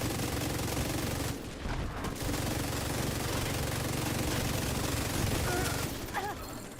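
Continuous gunfire in a shooter game rattles steadily at the target for several seconds, with a voice audible underneath.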